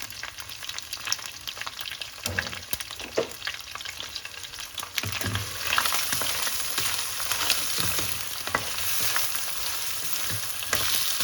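Prawns frying in a pan with salt and turmeric, a continuous close sizzle with scattered pops and occasional stirring scrapes, no talking.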